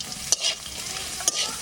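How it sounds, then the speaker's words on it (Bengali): A pan of mutton curry with ginger sizzles up close, and two quick scraping strokes of a spoon cut through the steady hiss. "ছোট করে আদাটুকু দেবো, দিয়ে একটু নাড়াচাড়া দিয়ে নামিয়ে দেবো।"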